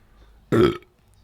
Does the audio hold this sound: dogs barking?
no